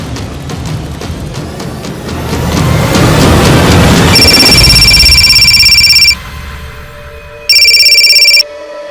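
A telephone rings: a loud electronic ring of about two seconds follows a rising dramatic whoosh, then a pause and a second, shorter ring, close and clear with no talking.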